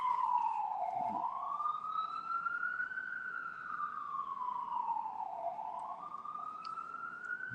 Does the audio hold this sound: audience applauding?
no